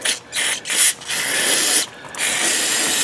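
Aerosol parts cleaner sprayed at a Ford F150's stripped, leaking drain plug: several loud hissing bursts of varying length separated by short gaps, close and with no talking.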